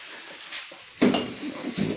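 Potatoes drop into a metal pressure cooker with a few knocking clunks and clinks, quiet at first and then sharper near the end, with no talking.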